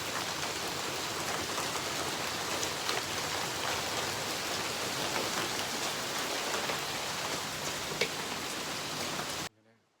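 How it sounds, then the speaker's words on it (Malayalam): Steady, dense rain pours down continuously, a broad hiss with scattered drips and ticks, ending abruptly near the close. "പുറത്ത് നല്ല മഴ പെയ്യുന്നുണ്ട്"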